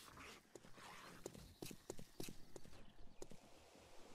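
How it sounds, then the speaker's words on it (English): Footsteps in 7 Days To Die, a run of hard, clopping steps with an uneven rhythm, moderately close, with some faint speech-like sound in the background. "Hear footsteps."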